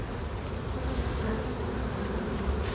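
Wild honeybee swarm buzzing in a dense, continuous drone, close and loud with no voices.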